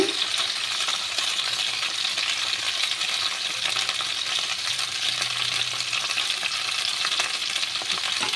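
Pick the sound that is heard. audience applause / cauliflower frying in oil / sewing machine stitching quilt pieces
cauliflower frying in oil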